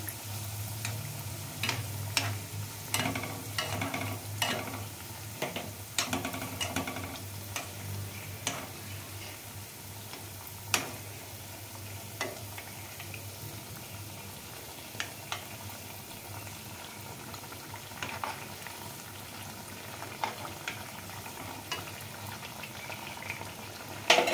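Dry fruit malpua frying in hot oil, a soft steady bubbling with scattered sharp crackles and ticks of spattering oil close by, no voices.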